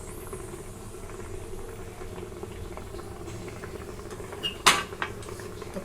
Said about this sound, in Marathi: कुकरमध्ये पाणी जाळी टाकले, पाणी ओतले त्याला उकळी यायला लागली